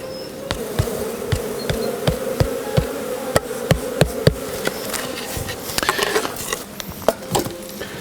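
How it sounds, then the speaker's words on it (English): Honey bees buzz in a dense, steady swarm as they are shaken down off a frame of a seven-frame nuc, with sharp knocks and taps of the frame against the box cutting through the hum. "I'm just going to shake the bees down."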